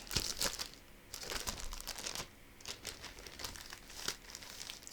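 Plastic packaging crinkled by hand during a cross-stitch session, a close, quiet run of irregular crackling rustles in bursts with brief lulls.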